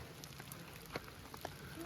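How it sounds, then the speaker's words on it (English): Rain comes down steadily at a trailhead gap on a hiking trail, a faint continuous patter with a few louder drops and taps standing out, distant and soft. "Well, we made it to Dick's Gap, and it's raining."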